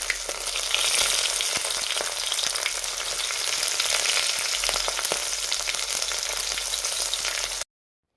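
Garlic, ginger and green chillies frying in a pan for masala rice give off a dense, continuous sizzle that stays loud and even throughout, with faint clicks on top. No one speaks.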